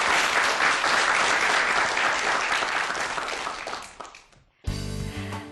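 An audience applauds a professor at the close of a lecture, a full, steady round of clapping that fades out before a brief burst of different sound cuts in at the end.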